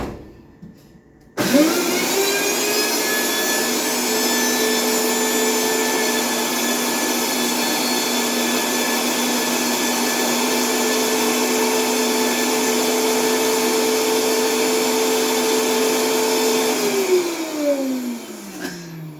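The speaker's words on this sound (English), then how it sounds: "let's see how it looks, how the blender does it" A blender blending celery starts abruptly and whirs at a steady high-pitched drone for about fifteen seconds, then winds down as it shuts off.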